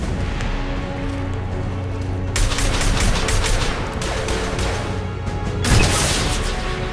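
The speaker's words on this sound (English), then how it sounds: "Oh boy, rockets." Rocket blasts and gunfire in the Mass Effect 2 video game: loud, dense bursts of shots with booming impacts, rising sharply after a quieter stretch and again near the end.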